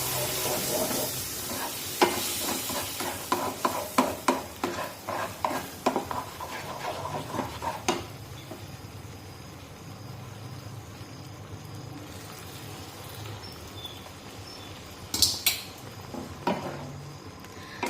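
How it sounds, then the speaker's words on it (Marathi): Stirring semolina mango sheera with milk in a pan on low flame: a quick run of clattering spoon scrapes and knocks, then quieter sizzling, with a few more knocks near the end. "आता सर्व व्यवस्थित मिक्स करून घ्यायचं"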